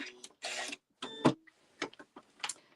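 Sewing machine stitching and back-stitching a pocket on a Luxe Cuddle Fair Isle wrap, with short separate bursts of mechanical whirring and clicking between pauses.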